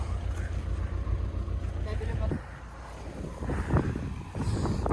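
A Kubota KL-41 tractor drives across a farm field during a potato harvest, its low, steady engine rumble running throughout with wind noise and voices talking over it.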